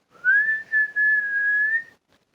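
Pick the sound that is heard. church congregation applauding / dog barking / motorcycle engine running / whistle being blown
whistle being blown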